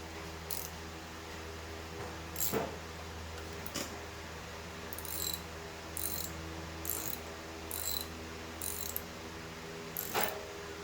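Ratcheting clicks and mechanical clunks from a milling machine table being tightened during a Y-axis movement repair, a handful of sharp metallic snaps spaced irregularly over a steady workshop hum, fairly close.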